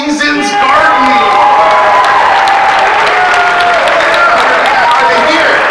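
An awards-ceremony audience applauds the winner of best grow store: dense, loud, steady clapping mixed with cheers and whoops throughout, with voices audible in the crowd.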